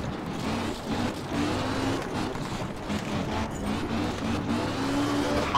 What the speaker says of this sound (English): This Escort's brilliant to drive.